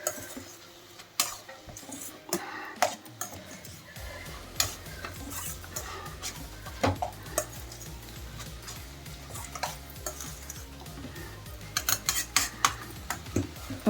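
Moong dal curry stirred in a pot with a spoon: repeated sharp scrapes and taps of the spoon against the pot, irregular but frequent, close and fairly clear over a low background.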